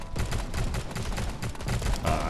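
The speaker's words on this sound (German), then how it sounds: "von rechts höre ich schon wieder übelst viel die Schüsse von dieser Waffe" Rapid bursts of assault rifle fire from the mobile shooter game Guns of Boom, a dense, continuous rattle of fusillade-like shots filling the whole stretch with no talking.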